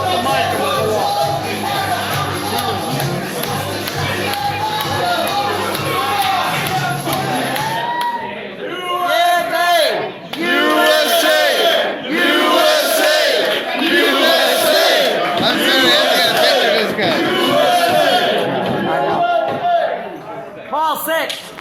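A loud, lively crowd fills a golf outing dinner, with dense overlapping chatter and shouts, then a burst of whooping and cheering that rolls on, rising and falling.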